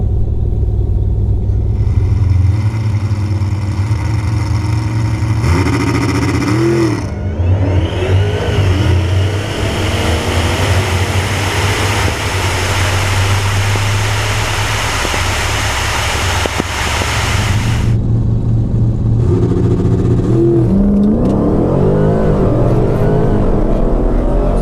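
Drag race cars launch and accelerate hard down a drag strip beside a dragster, on Mickey Thompson ET Street R tires, loud engines climbing through gears and roaring continuously, then fading as another engine revs up near the end.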